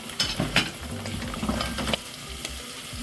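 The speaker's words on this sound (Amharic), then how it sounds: "ካሮቱን ትንሽ እንጠብሳለን ከሽንኩርቱ ጋር።" Carrots sizzling with onion in a pan for a fasting soup, a steady frying hiss broken by several stirring scrapes and clinks of a utensil, close and moderately loud, with no talk.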